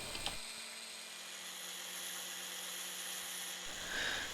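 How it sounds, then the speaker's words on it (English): A 4mm drill bores an oil port into a metal oiler adapter on a mill, with a steady, whining hum for about three seconds, then winds down. "I'm using the 4mm drill to make the oil port"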